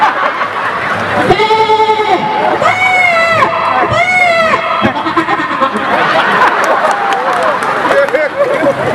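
A man imitates a goat, giving several quavering bleats in a row at a comedy stage show, loud and close, with a crowd cheering and children shouting around him.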